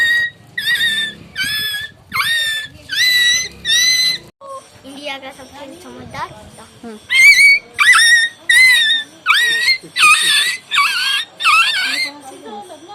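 A voice imitates a dog, yelping and barking in rapid repeated bursts, with short pauses between runs.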